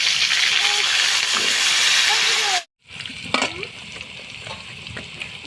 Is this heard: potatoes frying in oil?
yes